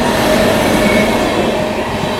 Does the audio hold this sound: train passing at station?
yes